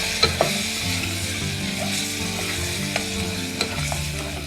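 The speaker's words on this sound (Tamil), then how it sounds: "இது நல்லா எண்ணெயிலேயே வதங்கி வரட்டும் ஒரு 10 நிமிஷத்துக்கு" Mutton pieces sautéing in oil for a spicy mutton curry, a continuous close sizzle with scattered utensil scrapes and clinks over low background hum, no voices.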